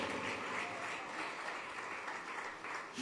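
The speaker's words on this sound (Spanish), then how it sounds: "Yo quiero que le den un aplauso a ellos. Denle un aplauso." Audience applause filling a church after a pastor's call to honor a group, a dense steady wash of many hands clapping continuously at moderate level for the whole stretch.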